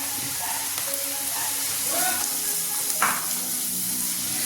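Onion, carrot and tomato with salt sauté in a pan, giving a constant close hiss of frying with occasional brief stirring scrapes; no speech.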